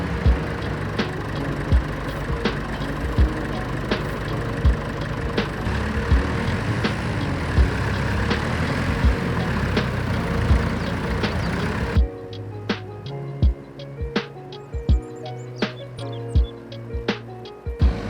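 A borrowed tractor without a hitch lift drives out to plough a field, its engine chugging steadily with a rough, knocking idle, then continuing at a lower, quieter drone with occasional clanks.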